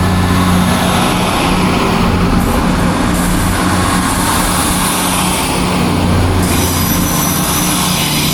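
Old diesel train, a Class 158 unit, passing through Alfreton station, its engine throbbing loud and steady throughout with clattering wheels and rumbling carriages close by, no talk.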